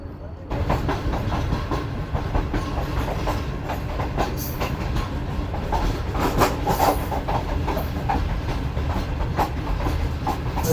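A passenger train rolls slowly through Khokhrapar station in the Thar desert, its wheels beating a steady clickety-clack over a continuous rumble and hiss, heard close from on board.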